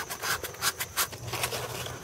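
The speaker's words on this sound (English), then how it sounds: "get down there and do light sanding to get the rest of that stuff off" Light hand sanding with sandpaper on the thermostat housing of a 2001 Jeep Wrangler makes a few quick, soft, close scratchy strokes in an uneven rhythm.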